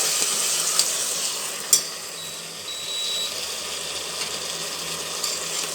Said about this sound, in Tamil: மஞ்சள் தூள் போட்டு கிண்டி கிண்டிட்டு